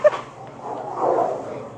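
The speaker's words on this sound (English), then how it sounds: "Good dogs." A dog gives one sharp, close yip, then whimpers and whines softly for the rest of the moment.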